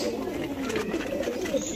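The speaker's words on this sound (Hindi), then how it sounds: "ये कबूतर बाहर के कबूतर है भाई" Pigeons coo softly in low, throaty burbles over a steady background hiss, several birds overlapping close by.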